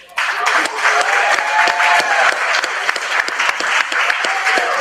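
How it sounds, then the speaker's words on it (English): A gala audience at a Young Gifted & Black entrepreneurial awards celebration bursts into loud, sustained applause, dense clapping filling the room for several seconds with a few cheers mixed in. "Give him a round of applause for that education."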